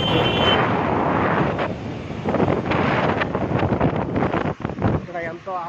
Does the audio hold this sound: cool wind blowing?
yes